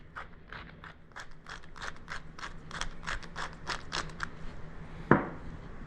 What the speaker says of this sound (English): And then of course some salt and some fresh ground pepper.